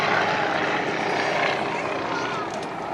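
Nanchang and Yak propeller airplanes fly in formation at an air show, giving a steady droning engine roar that fills the whole stretch at moderate loudness, with a slight drop near the end.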